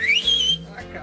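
A shrill rising whistle from a person, held briefly, then fading into softer sounds with a voice mixed in.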